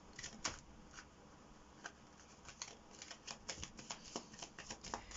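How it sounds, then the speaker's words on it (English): Tarot cards being shuffled by hand during a card reading, a run of soft riffling flicks and quick papery taps that grow denser toward the end, fairly quiet and close with no talking. "let's shuffle the cards for your what has he realized"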